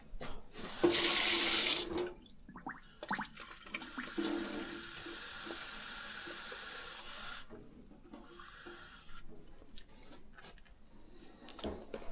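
Water runs from a tap into a container, a steady rushing hiss that surges loudly at first, then continues at a lower level with brief pauses and small handling noises.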